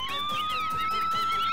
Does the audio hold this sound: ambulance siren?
yes